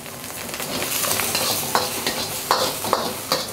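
Meat and scrambled egg stir-frying in a hot wok for a quick noodle dinner: a steady loud sizzle with repeated scraping and clacking strokes of a utensil, closely miked.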